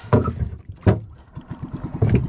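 A small Filipino bangka's engine sputters to life with a couple of loud bursts, then settles into a steady, rhythmic puttering idle, close by.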